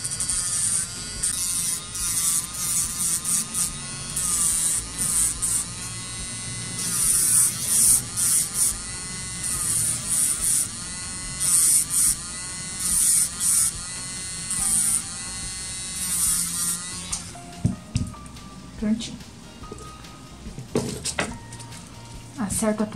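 An electric nail drill with a small bit shapes the C-curve of a gel nail, giving a close, high-pitched whine that starts and stops in bursts and changes pitch as pressure varies, then gives way to quieter handling noises near the end.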